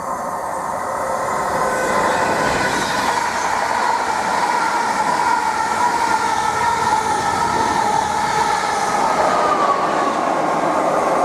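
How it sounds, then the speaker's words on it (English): A Class 90 electric locomotive-hauled train bound for Ipswich rushes through a station at high speed, a loud sustained roar of wheels and rails holding steady throughout with no voices. "we've got a through train to Ipswich, about to pass through at speed."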